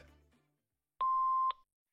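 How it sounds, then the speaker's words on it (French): After a brief moment of quiet, a single clean electronic answering machine beep sounds for about half a second, steady and clear. "Laisse-nous un message après le bip."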